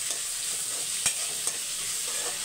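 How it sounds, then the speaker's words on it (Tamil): Ginger garlic paste sizzles steadily in a pan while being stirred, with a couple of sharp scraping clicks from the spoon against the pan over a continuous frying hiss. "இஞ்சி பூண்டு விழுது சேர்த்துக்கலாம்"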